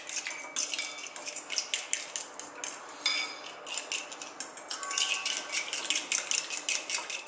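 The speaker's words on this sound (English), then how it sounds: "we're simply going to mix that up" Metal spoon whisking fish marinade with water in a bowl, a rapid run of light clinking and scraping strokes in a steady rhythm, close and distinct, with no talking.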